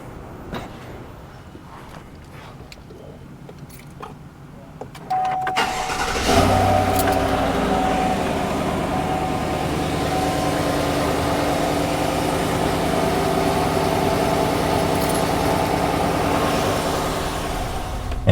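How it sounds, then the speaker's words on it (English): A truck engine started and left idling after a Kirkland Signature full synthetic oil change, quiet handling sounds first, then a steady, fairly loud idle that holds evenly to the end. "we're going to just let the truck run for a few minutes"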